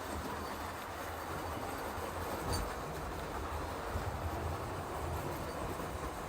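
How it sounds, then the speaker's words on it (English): A model Sir Nigel Gresley locomotive running around a layout, a soft continuous rumble of wheels on track with faint clicking over the rails and no talk. "Sir Nigel Gresley that's going around there, it falters on one point with one wheel on the loco."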